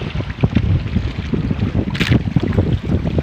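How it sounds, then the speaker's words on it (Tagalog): Strong wind rumbling against the microphone with choppy, surging waves at sea from a boat, loud and continuous, with a brief hiss of spray. "alakas na ang alon, malalaki ang hangin"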